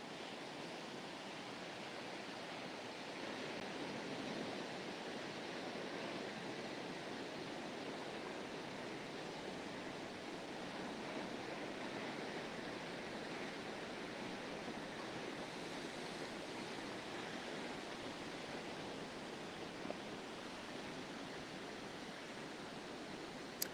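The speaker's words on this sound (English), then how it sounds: "look at this beautiful surf" Steady rough ocean surf washing onto a beach, a continuous broad roar of breaking waves with no pauses, moderately distant and even throughout.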